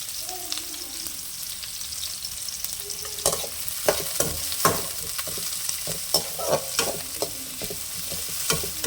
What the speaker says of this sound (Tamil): கட் பண்ணி வச்சுருக்கிறத போட்டு கிளறிக்கலாங்க